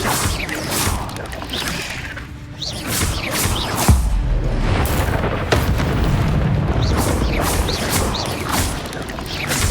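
Incendio fire spell effects from Hogwarts Legacy in the Forbidden Forest, repeated whooshing bursts and booming impacts layered with crashing debris through a loud, busy combat mix.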